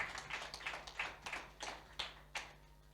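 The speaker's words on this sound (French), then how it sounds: "Clap the Lord for the answer." Hand claps from a church congregation, a run of sharp, fairly evenly spaced claps, about eight or nine over three seconds, slightly distant with room echo and a low mains hum beneath.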